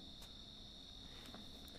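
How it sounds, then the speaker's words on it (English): Crickets chirp outdoors in a continuous, high, steady trill, fairly quiet, with no voices over it. "I can hear the crickets chirping"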